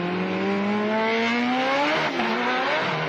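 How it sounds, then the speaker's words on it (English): A Datsun time attack race car accelerating hard, its engine note climbing steadily, then a quick dip and reset as it grabs the next gear and pulls again, loud and close. "He's grabbed second gear."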